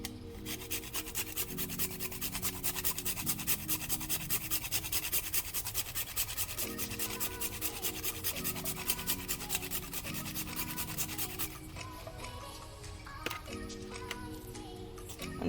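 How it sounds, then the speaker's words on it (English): Nutmeg is grated for Jamaican plantain and peanut porridge: close, steady rasping strokes in a quick regular rhythm that slows and loosens toward the end. "the first thing I'm going to do is grate some nutmeg."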